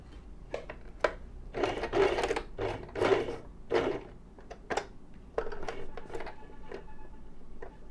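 A sewing machine stitches a shirt collar in short runs of rapid whirring, separated by pauses and isolated clicks as the fabric is adjusted, close and fairly loud.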